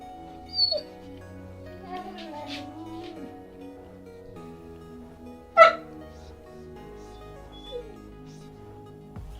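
A dog whimpers and yips for food at close range, mixing whines with a few sharp higher bursts, one of them especially loud, over a steady low hum.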